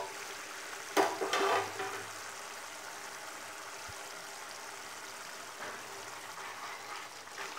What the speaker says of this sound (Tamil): நல்லா கொதித்து நல்லா கொஞ்சம் சுண்டி வரட்டும்